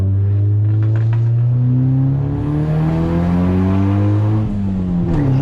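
A Honda Civic EC9 engine revs hard and steadily, its pitch climbing through gears with a brief dip as it shifts, loud and close.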